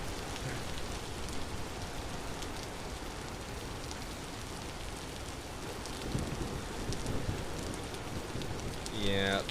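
Steady, dense rain hisses and patters throughout in the survival game Vintage Story, loud and unbroken, with a few faint higher chimes or tones surfacing near the end.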